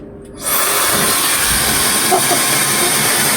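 A hair dryer switches on and blows at full power, a loud, steady close-up rush of air that holds without change.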